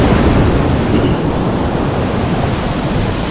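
Waves and gusting wind at Mousuni Island make a loud, steady roar with heavy wind rumble on the microphone, continuous for a few seconds without talk.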